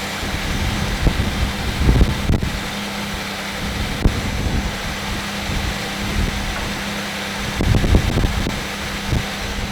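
A car with a cracked radiator idles while its cooling system is bled, the radiator fan whirring steadily close by with a low engine hum and occasional soft thumps, no talking.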